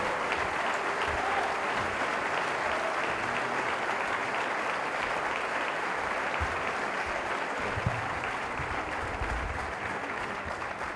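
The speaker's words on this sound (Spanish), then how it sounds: "os pido hoy un fuerte aplauso" Dense, steady applause from an audience at a political event in a hotel hall, filling the full eleven seconds at an even, loud level with no pauses.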